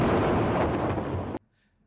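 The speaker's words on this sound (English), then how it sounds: "The explosion is so big." A huge detonation of dumped weapons in archival news footage gives a loud, rumbling roar that sustains, then cuts off abruptly into near silence.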